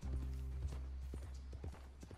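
Hooves of a horse in Red Dead Redemption 2 clip-clop in an uneven run of soft thuds, set against a steady low rumble of game ambience.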